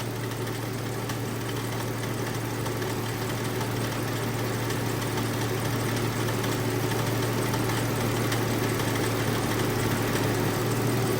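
A Ford Taurus or Lincoln MKZ engine idles steadily while its AC compressor draws in refrigerant during recharging, making a constant close rumble with a low hum and faint mechanical ticking throughout, without talk.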